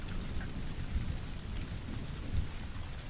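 Steady rain falls in a dense, even hiss with a few heavier drops pattering on a surface, a continuous soothing wash with no voices.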